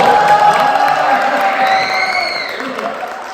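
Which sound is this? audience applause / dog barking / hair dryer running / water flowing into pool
audience applause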